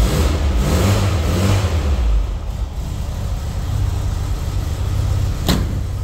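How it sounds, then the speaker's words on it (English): A 1964 Volkswagen Microbus split-screen engine idles roughly, then gives a brief rev before settling back to a steady low rumble, heard up close with no talking. "I don't know if I can give it a little rev."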